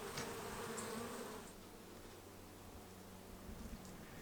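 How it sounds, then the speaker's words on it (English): Honeybees buzz around a busy backyard hive on an Australian homestead in spring, a faint, diffuse hum with no speech, slightly stronger at the start and then settling into a low steady drone. "The bees have been busy as, well, bees."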